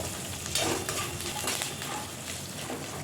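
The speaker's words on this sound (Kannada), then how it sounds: "ಹಾಗೆ ಕರಿಬೇವು ಹಾಕ್ಕೊಳ್ತಾ ಇದ್ದೀನಿ ಎಲ್ಲನೂ ಸಣ್ಣ ಊರಿನಲ್ಲೇ ಚೆನ್ನಾಗಿ ಫ್ರೈ ಮಾಡ್ಕೊಳ್ಬೇಕು" Curry leaves sizzle and fry in a small amount of hot oil, a steady close crackling hiss with brief stirring bursts, no voices.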